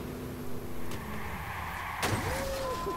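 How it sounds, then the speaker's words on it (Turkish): A car crashes while driving through Chicago in the Watch Dogs video game, with a sudden loud impact cutting through the steady engine and road noise, then a brief scrape. "Arabayı dağıttık."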